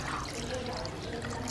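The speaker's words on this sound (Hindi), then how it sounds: "और इसमें पानी डाल दें, गोश्त गलने तक का पानी डाल दें आप।" Water pours into a cooking pot of mutton for a shahi matanjan dish, a short steady splashing gush heard up close.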